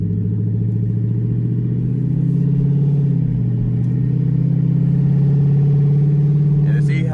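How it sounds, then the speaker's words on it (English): A Dodge Charger Pursuit engine drones loud and close, with the pitch lifting and falling slightly as the throttle is blipped during a downshift. "you can get little blips of the throttle to go ahead and get some rev action going"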